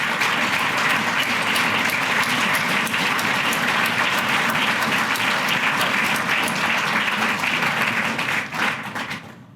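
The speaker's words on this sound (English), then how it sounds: "And let's give them a round of applause." An audience at a city's State of the City address applauds its city employees, producing a loud, dense, continuous wash of many hands clapping that holds steady for several seconds and then fades near the end.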